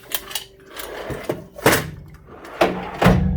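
A large metal toolbox drawer slides and shuts with several dull thunks and clacks, spaced irregularly and heard up close with no talking.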